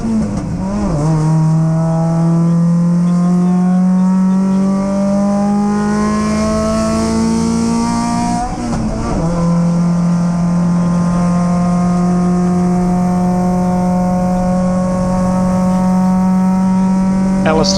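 A Triumph TR7 V8 race car with an LT77 gearbox drones loudly out of a corner during a circuit race, its engine note rising, dipping briefly at a quick short shift, then climbing again; a voice talks faintly underneath.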